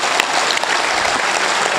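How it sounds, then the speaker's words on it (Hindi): Audience applause at a Hindi poetry recital by Hariom Panwar, a dense, steady wash of clapping from a large crowd holding at full strength throughout, with no voices over it. "कम तालियां हैं साहब।"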